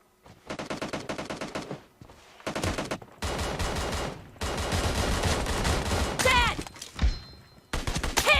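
Gunfire in PUBG Mobile comes in several rapid automatic bursts with short gaps between them, sharp and close, including a headshot. Speech is faint underneath.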